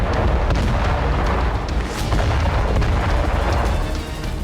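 A gas pipeline explosion in Iran produces a loud, continuous deep roar with rumbling booms that persists without pause throughout.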